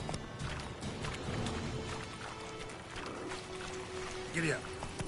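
Roach, the horse in the video game Witcher 3, moves with soft, muffled hoofbeats beneath a busy layer of game ambience, and a brief whinny-like call sounds near the end.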